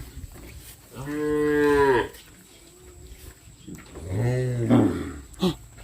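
A cow moos twice, each call long and loud, nearby, separated by a short pause with faint background noise.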